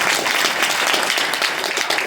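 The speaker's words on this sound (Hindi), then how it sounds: "मैं चाहूंगा सर के लिए एक जोरदार ताली मिस्टर" An audience at a stage event applauds for Arvind sir, giving a steady, dense wash of clapping from many hands that fills the whole stretch with no pauses.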